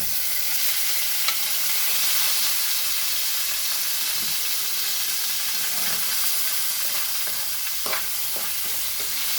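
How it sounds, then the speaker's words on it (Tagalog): Pork slices fry in a pan with sautéed garlic, onion and tomato for ginisang upo. A loud, continuous hissing sizzle runs throughout, with occasional soft stirring scrapes and no talking. "nagisa na natin yung bawang, sibuyas, kamatis at ilalagay na natin ang ating pork"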